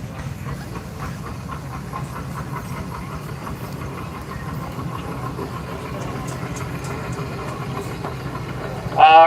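A Baker steam traction engine runs during steam games at the Rough and Tumble threshermen's reunion: a steady, close mechanical rumble with rhythmic chuffing and clatter, ending in a sudden loud burst.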